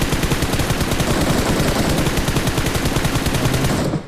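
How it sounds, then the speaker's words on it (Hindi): Sustained automatic gunfire in the BGMI battle royale game, loud and continuous rapid bursts for about four seconds with no talk, fading slightly at the end. "बगल से गोली चला रही है ओपन से"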